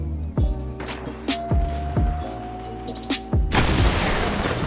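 Several sharp gunshot bursts crack out at uneven intervals amid Fortnite game sounds and a faint sustained tone, ending in a louder noisy blast.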